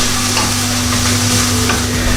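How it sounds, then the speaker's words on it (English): Continuous sizzling of vegetables frying in water in a pan, steady and close, with occasional stirring scrapes and a low hum underneath. "I'm really getting used to this frying with just water"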